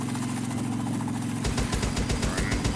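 A helicopter engine in DayZ runs with a steady droning hum that shifts into a rapid, throbbing rotor chop about halfway through, loud and close and heard alone.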